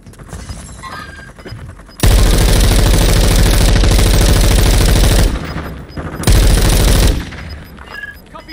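Automatic gunfire from the video game Modern Warfare 2 blasts in two loud, dense sustained bursts, a long one of about three seconds and a shorter one after a brief pause, over quieter background game noise.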